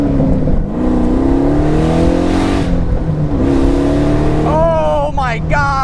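A 700hp LS3-swapped Pontiac Solstice accelerates hard, its V8 roaring loud and close from inside the cabin with rising engine pitch through gear changes, while a voice exclaims over it.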